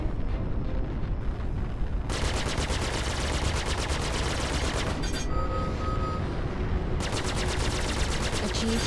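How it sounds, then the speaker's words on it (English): Star Citizen space combat gunfire, dense sustained rapid shooting that roars continuously for several seconds with brief breaks, loud and close, mixed with engine and explosion rumble. "someone else is shooting at him"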